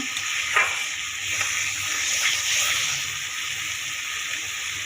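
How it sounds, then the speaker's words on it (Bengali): Spice paste with coriander powder sautés in oil in a pan for a Bengali egg curry with milk, a steady close sizzle with occasional stirring, no voices. "মশলা কষানো হয়ে গেছে, আর একটু হবে"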